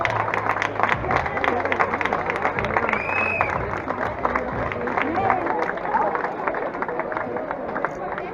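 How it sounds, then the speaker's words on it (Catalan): Applause for race champions and their families at a 7K running race podium ceremony, steady clapping from a crowd with chatter and a voice on a loudspeaker. "I si aplaudiment als campions i família"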